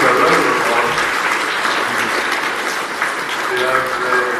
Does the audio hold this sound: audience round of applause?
yes